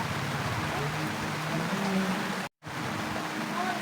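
Steady rain falls outdoors at a market in Angeles City, Pampanga, a dense even hiss with a low rumble beneath, briefly cut by a sudden dropout before resuming.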